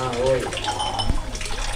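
Water flows at the source of the Son river at a temple pool, a short, steady splashing trickle close by while someone talks.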